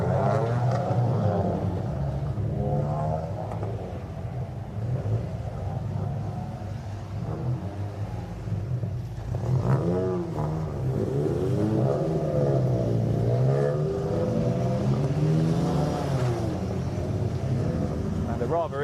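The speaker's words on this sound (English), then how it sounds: "The cars are going to head out on track." Ford Fiesta Junior Championship race cars pull out onto the track at Snetterton for BRSCC qualifying, a steady engine rumble with rising and falling revs throughout, heard under continuous commentary.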